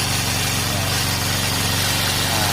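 A grass cutter engine with a worn bearing runs steadily at close range, a loud, buzzing drone with a heavy, rattling vibration that holds even throughout, with no talk.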